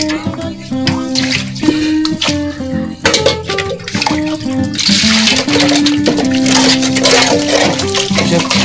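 Pieces of ash gourd soaked in lime are rinsed by hand in water for making petha, with close splashing, sloshing and dripping alongside clattering of a vessel, steady and fairly loud.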